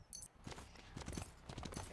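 Hooves clip-clop as a horse is ridden in the video game Smite, a quick, steady run of light thuds at close range, fairly faint with no talk.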